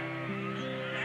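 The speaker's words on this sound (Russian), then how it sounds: "Порядка 2000 овец здесь." A large flock of Hissar sheep from Jilikul bleating outdoors, a continuous wavering mass of overlapping bleats heard from a moderate distance.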